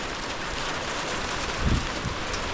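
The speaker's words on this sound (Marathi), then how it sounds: "पाऊस चालू झाला आहे बघा" Unseasonal first rain pours down outdoors, a steady hiss of falling drops with light wind buffeting the microphone and a brief low rumble partway through.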